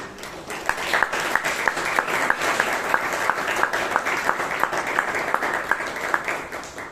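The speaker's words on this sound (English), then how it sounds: "Let's do a huge round of applause." Applause from the audience at a Toastmasters club meeting in Bangalore, a continuous crowd clap with one clear rhythmic clapper standing out in regular beats, steady and moderately loud.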